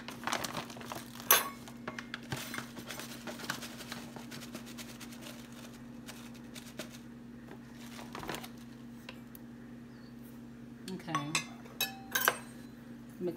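Two cups of flour and half a cup of sugar being mixed in a bowl for a gluten-free strawberry crumb pie, with soft scraping and scattered clinks of utensil against the bowl over a steady low hum.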